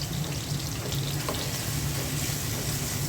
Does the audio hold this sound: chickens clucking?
no